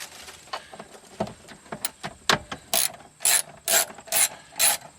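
A wrench ratchets out 10mm bolts from the battery support arms of a Honda Insight during a harness install, starting with soft clicks and building to five loud, evenly spaced bursts of ratcheting close by.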